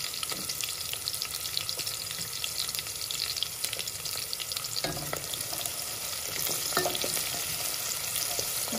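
Garlic and onion frying in a pan for a Sylheti dal dish, a steady close sizzle with occasional stirring scrapes and light clinks throughout, no voices.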